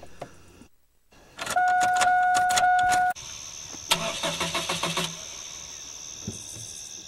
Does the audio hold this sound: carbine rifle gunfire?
no